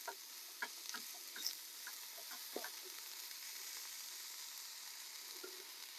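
Water heats in a frying pan on a camp stove, giving a faint steady hiss broken by scattered soft ticks and pops, with no talking.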